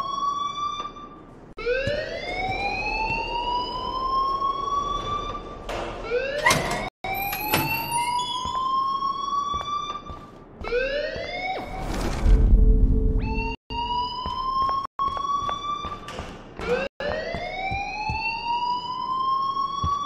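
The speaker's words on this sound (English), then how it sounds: "please turn off that alarm" A wailing alarm in the video game Life is Strange, repeated rising and falling electronic tones with a low rumble beneath and a few brief dropouts.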